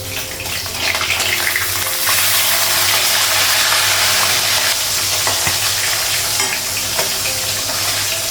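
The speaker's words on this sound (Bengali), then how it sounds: "মাছটা একটা একটু ভাজা হয়ে গেছে" Fish frying in a pan, a dense continuous hiss and crackle that runs loud and steady throughout without pauses.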